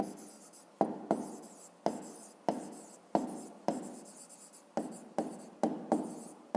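A pen writes on paper in a series of short scratchy strokes, each starting with a sharp onset and trailing off, repeating in an uneven rhythm close to the mic.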